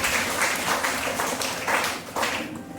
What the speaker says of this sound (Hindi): जोरदार ताली बजाइए बहन